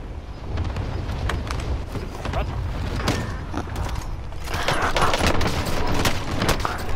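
Gunfire from several players rattles in a video game battle, dense overlapping bursts and sharp shots crowding the whole stretch, growing louder near the end, with a voice talking over it.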